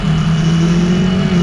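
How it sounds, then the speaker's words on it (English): A KTM 250 Adventure motorbike idles close by with a steady engine hum and a buzzing zzz rattle running continuously through the brief stretch. "I have been facing this kind of noise, this zzz kind of noise that you will hear"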